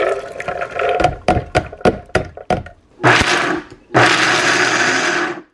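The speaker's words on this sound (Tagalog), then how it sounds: "So, iba-blender ko siya." A blender grinding corn whirs in short bursts, a series of quick pulses followed by two longer, louder runs of grinding at close range.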